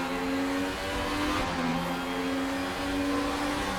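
Race car engine in the RaceRoom sim racing game, a 1995 DTM car at Norisring, holds a steady, loud, buzzing drone at high revs for the whole stretch, with only a slight dip in pitch midway.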